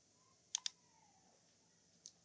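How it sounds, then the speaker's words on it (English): A few crisp computer mouse clicks while working in SketchUp: two quick clicks close together, then a single lighter click after a short pause, all faint and dry against a soft room hum. "Click on OK"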